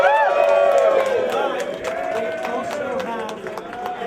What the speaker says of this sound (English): please give a nice round of applause to Sister Mish